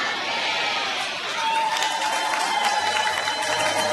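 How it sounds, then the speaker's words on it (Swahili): An audience at a church gathering breaks into sustained applause mixed with shrill ululation, a dense, loud wash of clapping and cheering that builds slightly toward the end. "Makofi tena na vigelegele vingi kwako."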